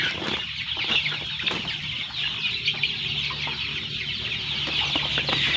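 Several chickens cluck and squawk close by in a continuous, busy chorus, with no talking.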